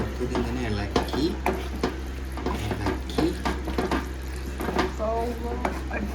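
Soya chunks being stirred in a hot pan, with a spoon scraping and clinking in an irregular rhythm over a soft sizzle. A person talks throughout.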